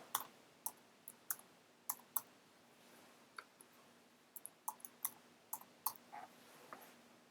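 Typing on a computer keyboard while working in a software setup screen: scattered sharp key clicks arrive in short irregular bursts with pauses between them, quiet and close, alone over a faint steady hum.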